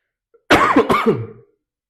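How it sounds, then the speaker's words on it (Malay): Two quick coughs close to the microphone, harsh and throaty, then quiet. "Maaf tau, saya batuk sikit."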